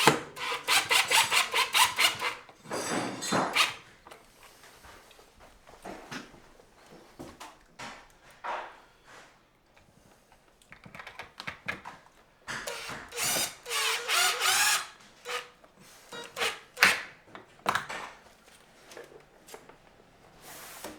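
Screws being driven into a window frame during a window install, heard as bursts of whirring and grinding from a power driver with pauses between, close and fairly loud, no talking.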